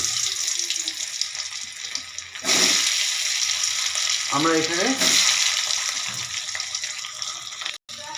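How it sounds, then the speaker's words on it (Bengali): Cinnamon and cloves fry gently in oil in a pan with a steady, close sizzle that swells to a louder hiss partway through, with a brief bubbling burst and a sudden cut near the end. "সামান্য দারচিনি এবং সামান্য লং দিয়ে পুরোটাকে আস্তে করে হালকা করে ভেজে নিচ্ছি"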